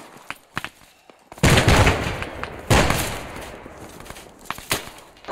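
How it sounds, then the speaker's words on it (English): Grenades burst in an Arma 3 military section exercise: two loud, close blasts a second or so apart, each with a rumbling decay, and scattered gunfire pops around them. "Grenade, get down."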